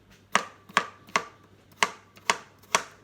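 Roasted pumpkin being chopped into smaller chunks with a knife on a board, seven sharp, evenly spaced chops at close range over a quiet background.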